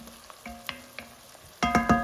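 Conecuh sausage and onion fry in a pot over medium heat, a light sizzle marked by sparse clinks that build into a burst of several quick metallic knocks from stirring at the end, with no talk.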